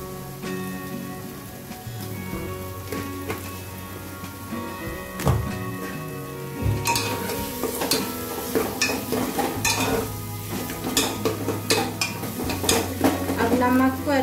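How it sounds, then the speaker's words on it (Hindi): Salt is stirred into tomato masala frying in oil in a pan for mutton curry, with a close sizzle under repeated spoon scrapes and clinks that get busier and louder toward the end. "नमक को अच्छे से मैंने टमाटर के साथ मिक्स कर ली हूँ"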